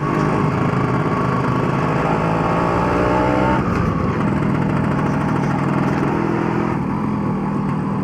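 A lightly ported engine, apparently a motorcycle, running loud and close with a steady throbbing idle and a brief rise in revs partway through.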